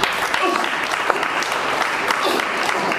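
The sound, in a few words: congregation applause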